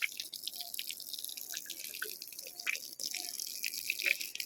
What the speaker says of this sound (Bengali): আজকে বর জল দিচ্ছে